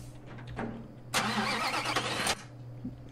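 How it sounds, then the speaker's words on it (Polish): A vehicle engine cranks and catches in Construction Simulator 2015, a loud burst of starter whir and ignition lasting about a second over a low steady background hum. "ja już wysiadłem, a silnik dopiero odpala"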